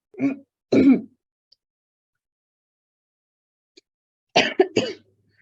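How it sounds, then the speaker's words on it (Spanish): A person coughs and clears their throat in short harsh bursts, a couple at the start and a rapid cluster near the end, with silence between. "me vino un ataque de tos"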